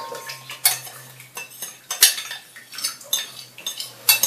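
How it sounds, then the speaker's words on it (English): Raw chocolate mixture is scraped and poured from a bowl into a blender, with repeated sharp clinks and scrapes of a utensil against the dish at an uneven rhythm, close and fairly loud, with no talk. "what I can do is I can pour the whole thing into here."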